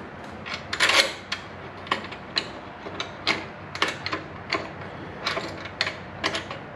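A torque wrench clicks and ratchets in irregular bursts while bolts are tightened during a Screamin' Eagle Ohlins shock install, close up with short pauses between strokes and no talk.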